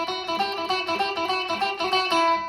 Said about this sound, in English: I'm using a little palm muting right there to sort of make it sound staccato.